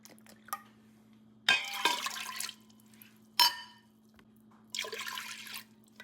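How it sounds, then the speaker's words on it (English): Water poured from a container into a pot while making beef rib soup, three separate splashing pours at close range against a quiet background with a faint steady hum. "Also adding 4 cups of water to it."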